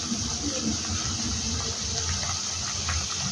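A tomato snack fries slowly in oil over gentle heat, making a steady, soft sizzling hiss with light crackles and no pauses.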